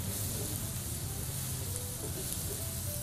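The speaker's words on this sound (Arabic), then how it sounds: "نحمر البصله" Onions frying in a pan in a home kitchen, a soft steady sizzle with a continuous low hiss that stays even and faint from start to finish.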